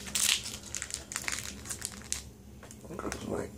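A foil Pokemon Roaring Skies booster pack is torn open and crinkled close by, with a sharp rip at the start followed by bursts of crackling and rustling.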